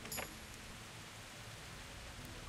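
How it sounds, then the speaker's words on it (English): Steady heavy rain in the medieval role-playing game Kingdom Come: Deliverance, a constant broadband hiss of downpour filling the scene with no other sounds standing out. "Yes, it's still raining heavily."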